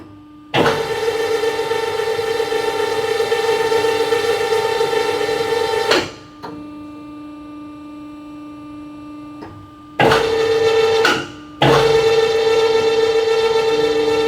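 Sahinler HPK-80NC section and pipe rolling machine running: a steady, loud tonal hum with a strong harmonic whine that stops, drops to a lower drone, then starts again twice, with no talking.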